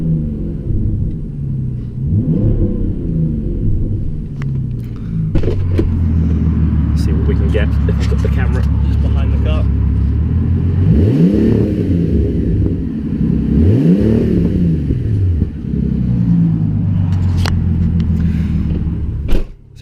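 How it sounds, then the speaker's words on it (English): A Bentley Continental GT engine idles with a deep rumble, then is revved lightly twice in quick rising swells, heard from just behind the car while someone talks over it throughout. "I don't know if you'll be able to hear if I rev it slightly."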